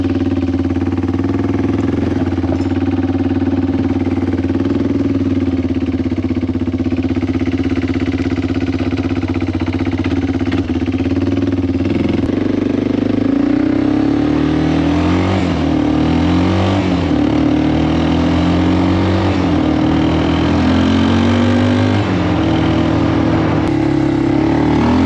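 Engine of a cheap, previously broken ATV on a test drive through its gears, a steady loud motor drone that starts revving and shifting pitch midway, with repeated rises and falls, heard alone.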